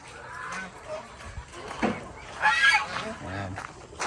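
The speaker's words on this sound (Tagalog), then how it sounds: "Yan ang aking mga gansa." Geese on a farm in Zambales honk repeatedly at close range, a series of loud nasal calls scattered across a few seconds with quieter rustling between.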